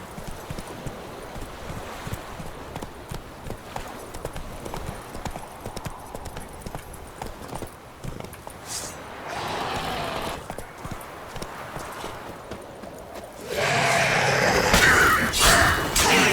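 Roach the horse's hooves clip-clop rhythmically on the ground in The Witcher 3, steady and fairly close, with louder clattering and movement noise near the end.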